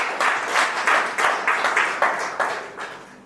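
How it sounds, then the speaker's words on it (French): A church congregation applauds loudly, with a steady stream of hand claps rising and falling in rhythmic bursts throughout. "Nous avons applaudi très fort le Seigneur ce matin."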